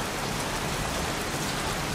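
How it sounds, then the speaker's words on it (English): Steady, dense rain falls in the video game Heavy Rain, a continuous hiss of downpour on surfaces with no letup and no voices. "Goddamn rain. Soaking wet."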